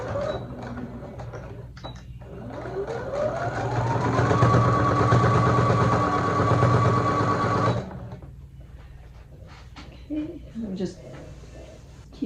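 Sewing machine stitching binding along a quilt edge, its motor winding up into a steady whirring run for several seconds and then stopping, close, with a person talking over it.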